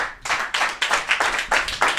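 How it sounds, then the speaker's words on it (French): A small group applauds indoors, with clustered bursts of close hand claps that swell and fade in quick waves, and no voices over them. "Un tonnerre d'applaudissements quand même"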